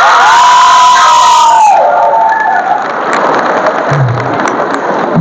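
A school crowd celebrating a student named Pradeep at a Sri Ramanujan birth anniversary event: a steady, loud roar of cheering and clapping that carries through the whole stretch, with a rising whistle-like tone near the start.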